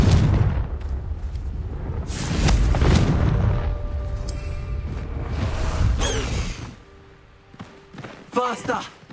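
The Confringo fire spell in the video game Hogwarts Legacy sets off several deep, heavy booms and blasts in quick succession, with voices talking among the explosions.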